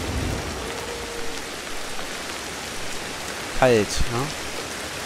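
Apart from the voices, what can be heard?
rain in video game Ancestors: The Humankind Odyssey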